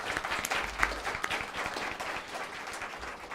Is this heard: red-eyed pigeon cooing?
no